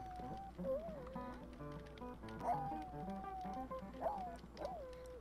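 A vocal dog in The Sims 4 howls along to guitar playing, its wavering cries rising and falling over the plucked notes, soft and fairly quiet.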